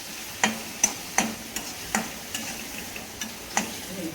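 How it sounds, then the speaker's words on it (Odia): Chopped ivy gourd tossed into frying onions in a pan, with a run of sharp, evenly spaced stirring clatters over a soft, steady sizzle, close and moderately quiet. "ଏବେ ଏ କୁନ୍ଦୁରୁ କାଟି ଦିଆର ପକାଇବ ପିଆଜ ଭଜାରେ"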